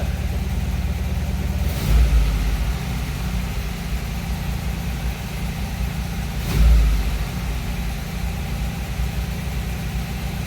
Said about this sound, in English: Just kind of let it idle for a little bit and warm up.